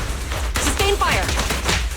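A quick volley of gunshots cracks in Zenless Zone Zero, several sharp close reports within two seconds mixed with whooshing game effects and a brief voice.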